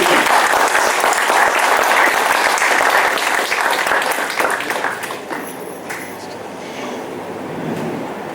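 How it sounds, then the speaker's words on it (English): Strong, sustained applause from an audience at a law school celebration, a thick wash of clapping that gradually thins and fades toward the end. "Should we not offer our big round of applause to them?"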